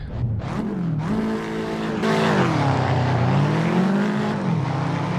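Subaru WRX STI in Assetto Corsa accelerating hard down a runway in a 0-60 run, engine note climbing through the gears with a clear shift break, loud and steady throughout.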